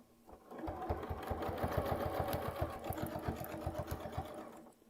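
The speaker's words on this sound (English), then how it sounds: "I can drop my needle and I'll be ready to sew" A sewing machine stitches a quilt in one steady run, its needle thumping in a fast, even rhythm that stays close and clear for several seconds before stopping.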